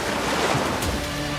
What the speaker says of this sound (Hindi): वैसे ही समुद्र की लहरों की आवाज स्पष्ट सुनाई देने लगती है